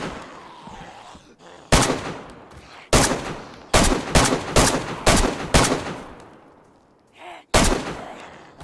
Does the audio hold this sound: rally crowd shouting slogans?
no